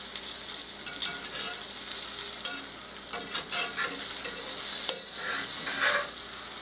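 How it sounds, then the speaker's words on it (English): Chicken cutlets brown in a frying pan with a bright, constant sizzle, close and fairly loud, punctuated by a few scrapes and a clack as they are turned. "You are just strictly going to flip them over and brown them, and that is it."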